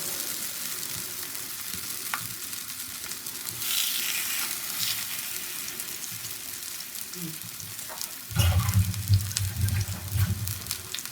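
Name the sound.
stingray fish frying in coconut oil on a dosa pan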